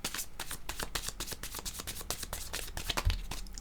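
Tarot cards being shuffled by hand before a card is drawn, a quick run of crisp riffling flicks close up that fills the moment with no talk.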